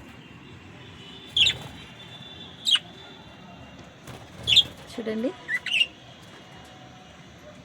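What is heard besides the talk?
love birds calling on a terrace garden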